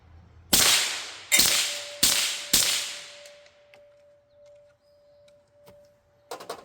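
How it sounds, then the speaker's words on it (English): Four sharp, fairly quiet FN 5.7 pistol shots with subsonic ammunition ring out at an even pace, each with a brief tail, followed by a faint lingering hum and a few clicks. "We're gonna shoot the rest of this FN out of this and see how it sounds."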